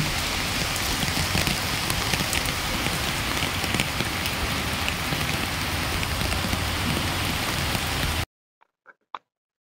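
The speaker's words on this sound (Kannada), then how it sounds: "ಮಳೆ ಬರ್ತಾ ಇದೆ" Steady, dense rain pours loudly for several seconds at Chikkabanavara railway station, then cuts off abruptly, leaving near silence with a few faint clicks.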